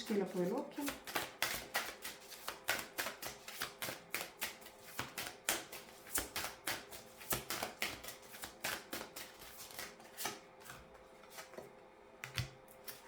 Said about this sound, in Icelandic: Og þá er ég að fá hér kort úr Greenwich Oracle stokkinu til að fá stutt